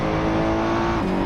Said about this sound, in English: You can hear not only the engine noises, but also the transmission sounds, the whine of the transmission.